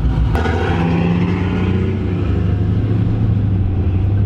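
Chevrolet Trailblazer SS with an aftermarket cam idling and rumbling close by, a steady deep lopey engine note throughout with a sharp transient near the start, amid street cruise-event ambience.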